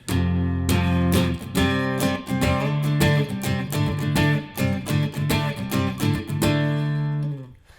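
Electric guitar riff from the chorus of a song, sliding up from C5 to D5 several times in a driving, distorted rhythm, loud and close throughout.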